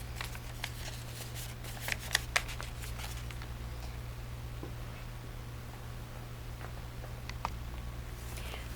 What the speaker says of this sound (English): I'll fold those also to make that